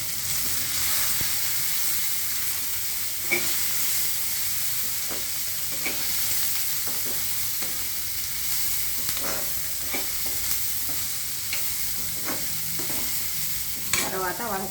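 Potato and cauliflower fry together in a pan, a steady hiss of sizzling oil with periodic knocks and scrapes from stirring, heard close and alone without talk.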